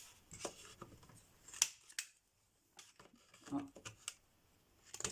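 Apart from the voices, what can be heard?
scissors cutting paper to round corners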